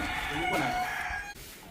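A rooster on a poultry farm crows once, loud and close, its call trailing off after about a second.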